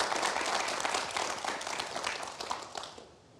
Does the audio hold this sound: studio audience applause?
yes